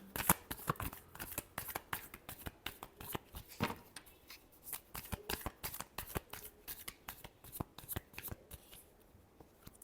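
Tarot cards are shuffled by hand close by, a quiet run of quick papery riffles and soft snaps that repeat irregularly, with no speech.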